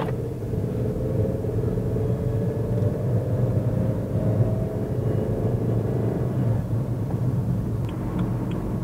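Steady rumble of a 2015 BMW X1 driving on the road, heard from inside the cabin as a continuous low engine and road drone with a faint rising tone.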